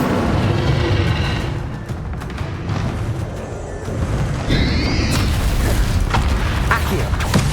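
Spell blasts in Hogwarts Legacy, the Confringo and Bombardo curses, erupt as deep booming explosions with rumbling debris and crackle, several bursts in a row, plus a brief whooshing magical flare midway.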